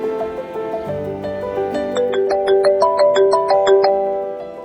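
A phone ringtone plays a bright, repeating electronic melody of quick plucked notes that climbs and layers into a chiming pattern, loud and close, ringing on unanswered with no voices.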